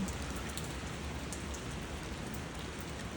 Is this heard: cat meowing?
no